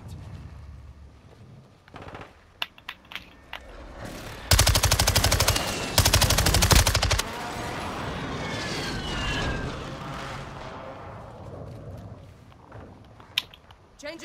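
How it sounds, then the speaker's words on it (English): Call of Duty multiplayer friendly airstrike: a loud, dense roar of rapid automatic gunfire and aircraft noise bursts in around the middle in two heavy blasts, then trails off into rumbling battle noise with scattered distant shots. "Friendly airstrike in the AO."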